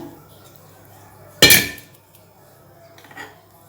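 Mutton pieces tipped into a pressure cooker while making a Sunday mutton gravy give one sharp clattering clank of meat and metal at close range, followed later by a softer knock; no talking.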